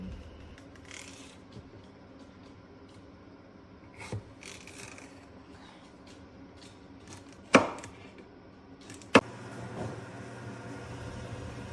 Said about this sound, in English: Next, I just used 1 piece of celery and I chopped it up.